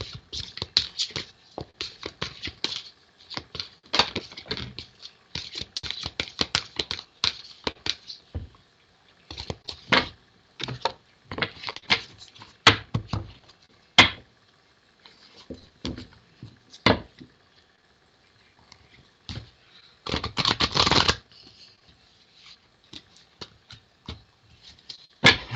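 Tarot cards shuffled by hand in short bursts of riffling and patting, with brief pauses between runs and one longer louder riffle near the end, close and alone without talk.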